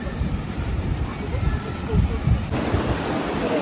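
Sea waves wash in at a sunny beach at high tide on the Indian coast, a steady rushing surge mixed with gusty wind buffeting the microphone, close and continuous while people talk nearby.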